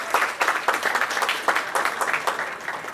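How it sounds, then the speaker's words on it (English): At a Sankara Eye Foundation event in Houston, an audience claps in a moderate, uneven burst, the individual hand claps clearly separated and rising and falling across the room. "applaud if you want to."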